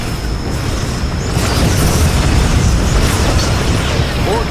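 A Borg vessel explodes in the Star Trek Legacy Xbox 360 video game, a loud, sustained, rumbling blast that roars continuously for several seconds with faint higher crackles.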